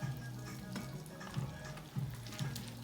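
Oil sizzling in a pot while Nigerian achicha and fio fio are being prepared, a steady close frying crackle with a few soft periodic knocks and a low hum beneath.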